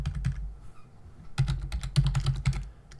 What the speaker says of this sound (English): I'll just type in features,